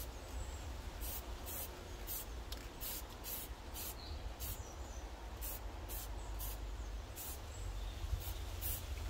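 A spray paint can hisses in a series of short bursts while painting a Ford Fiesta front grille outdoors in wind, about a dozen quick sprays at irregular intervals over a low background rumble.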